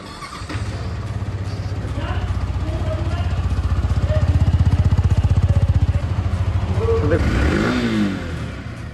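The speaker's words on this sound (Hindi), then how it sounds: "so let's listen the exhaust sound" A 2024 Yamaha R15M motorcycle starts and settles into a loud, close exhaust idle, with a steady low throbbing rumble and a brief blip of revs near the end.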